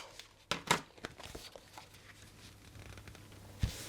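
Paper layers are pressed and stuck onto a scrapbook page for a Disney-themed layout, making close crinkling and rustling with a few sharp taps and scrapes.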